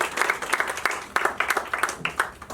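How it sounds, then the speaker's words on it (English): Brief round of clapping from an audience honoring Congressman Hakeem Jeffries at a Pakistani women of distinction event, quick uneven claps at moderate level. "a huge round of applause for Congressman Hakeem Jeffries for his wonderful work"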